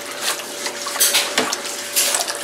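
A Scotch-Brite dish cloth scrubs stuck-on residue from a pan, giving close, rapid, rough scraping strokes in short bursts with no one speaking.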